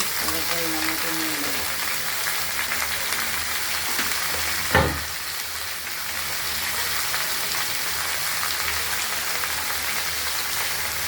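Mixed vegetables frying together in a kadai, including potato, taro, pointed gourd, pumpkin and drumstick. They make a steady, rain-like sizzle that runs close and constant, with a voice briefly speaking over it.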